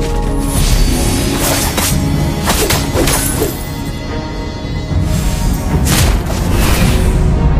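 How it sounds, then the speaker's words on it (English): Turret destruction in the Mobile Legends mobile game: a dense, loud run of crashing booms and whip-like impacts, several heavy blasts layered together with no pauses, full and close throughout. "You destroy the turret!"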